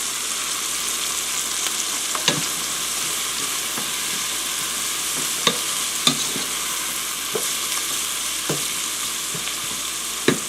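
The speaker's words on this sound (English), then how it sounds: "so we're going to go ahead and add our garlic" Garlic frying with softened onion in oil, a bright continuous sizzle close up, punctuated by several sharp clicks and taps of a utensil against the pan.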